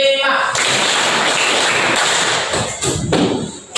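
A group of participants in a teacher-training session at UIN Antasari Banjarmasin claps in a loud, close rhythmic burst that stops after a couple of seconds, followed by a brief voice.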